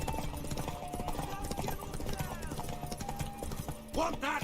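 Galloping horse hooves pound in a rapid clip-clop during a horse race in The Witcher 3, close and steady with game music and character voices layered over them, and a brief burst near the end.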